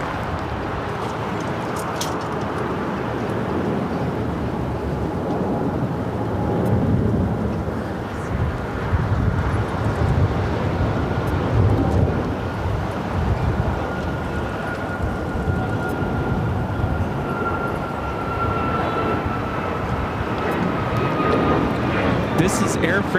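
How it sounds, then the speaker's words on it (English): An Air France Flight 23 airliner takes off from LAX runway 25 left, bound for Paris, with a broad, steady low roar that swells and holds under ongoing talk. "This is Air France Flight 23 taking off to Paris."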